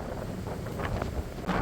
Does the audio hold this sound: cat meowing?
no